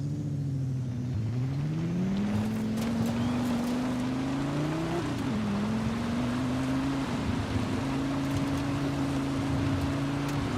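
A turbocharged car in Forza Horizon 5 pulls away with a deep, muffled engine note, revving up steadily through gear changes and holding a droning tone, loud and close with no talk.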